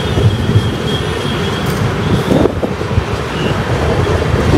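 A train passing through Yelahanka junction near Bangalore, a loud continuous rumble of rolling wheels and rattling carriages with a faint high squeal, heard up close.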